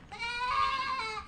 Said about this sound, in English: Little baby goat, look.